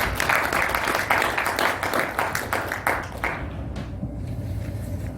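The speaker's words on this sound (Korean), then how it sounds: "우리 박수로 환영하겠습니다." Church seminar audience at a theology conference applauds to welcome a pastor to the podium, a dense wash of many hands clapping for about three seconds before fading into room tone.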